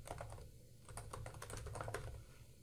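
Typing on a computer keyboard, quick irregular key clicks and taps close up and quiet, a short burst of keystrokes with a steady low hum behind, no voices.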